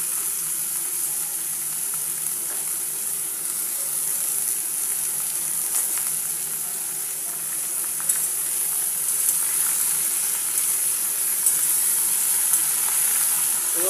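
Beetroot fries with garlic and dry chilli in a pan, giving a soft, even sizzle up close. A faint scrape of stirring comes through now and then, and there is no talking.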